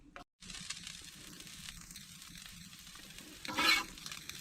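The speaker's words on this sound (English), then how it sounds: "we'll go ahead and throw our bacon in" Bacon and onion fry in a pan on a wood cook stove, a close steady sizzle with a brief gap near the start and a louder crackling burst from stirring toward the end, no talking.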